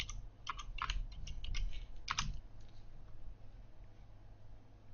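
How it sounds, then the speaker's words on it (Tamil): Typing on a computer keyboard during a Photoshop Lightroom tutorial, with a quick burst of close, light key clicks in uneven clusters that trails off into quiet room tone. "USA ஒயிட் ஹவுஸ் அப்படின்னு டைப் பண்ணுறேன்"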